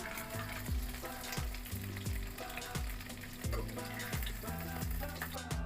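Paneer fries in hot oil with a steady crackling sizzle, close and continuous, punctuated by regular scraping strokes of a spatula against the pan.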